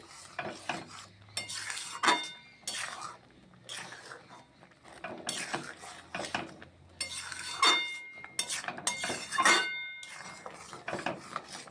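A metal spoon stirs milk, sweets and potato halwa in a pan, making close, irregular scrapes and light clinks against the pan at an uneven stirring rhythm.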